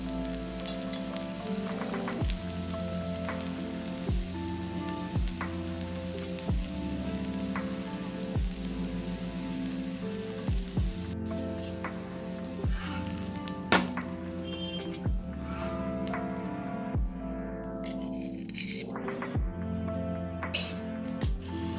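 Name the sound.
adai dosa frying in oil on a pan after flipping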